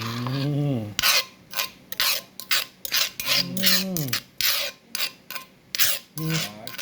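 Repeated rough scraping strokes in an uneven rhythm, close up, with a voice speaking in short bursts between and under the rasping.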